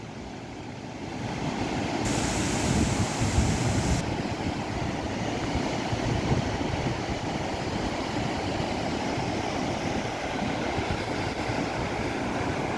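Steady, full rushing of water flowing heavily nearby at Ezhukumvayal Thuval waterfall, a constant broad roar with no pauses.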